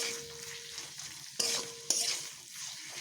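Food in a pan is stirred after a little water is added, giving a soft, even sizzle with two sharp utensil knocks against the pan partway through, fairly quiet and with no talking.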